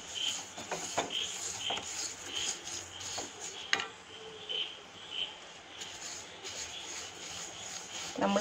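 Black sesame seeds are stirred in a pan while roasting, making a repeated dry, gritty scraping and rustling in uneven strokes, close and moderately loud.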